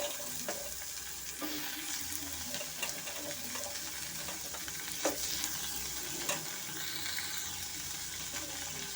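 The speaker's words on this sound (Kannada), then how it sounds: "ಇವಾಗ ನಾನು ತರಕಾರಿ ಎಲ್ಲ ಸೇರಿಸ್ಕೊಂಡು ಫ್ರೈ ಮಾಡ್ಕೊತೀನಿ" Vegetables such as tomato, beans and carrot frying in a pan for broken wheat khichdi, a steady close sizzle broken by occasional stirring scrapes and clicks.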